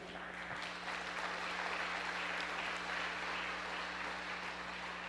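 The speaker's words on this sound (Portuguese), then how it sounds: "Você pode aplaudir ao Senhor, querido?" Church audience applauding during an evening service, a steady distant wash of clapping at low level over a constant electrical hum.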